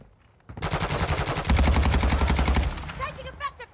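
Rapid automatic gunfire rattles in Call of Duty DMZ, a dense burst of shots that grows heavier midway, then tapers off into scattered sounds, loud and close.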